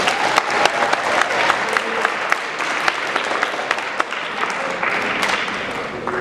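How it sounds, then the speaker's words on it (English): Audience applause at a poetry recitation finals, honoring the student reciters: a steady, dense wash of clapping from a sizable crowd that holds evenly for about six seconds, with scattered sharper claps standing out. "so let's give all of the students a round of applause."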